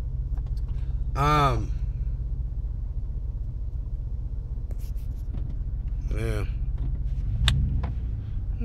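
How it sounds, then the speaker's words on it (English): A car engine idles in stopped traffic with a steady low rumble throughout, while someone talks briefly and makes a couple of short vocal sounds over it. "I'm still sitting in traffic"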